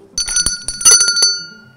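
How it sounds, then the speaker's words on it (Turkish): The tabletop bell of a team's table on a quiz show is struck several times in quick succession, bright, ringing and close, leaving a short metallic decay. "sarı masa zili ilk önce çaldı"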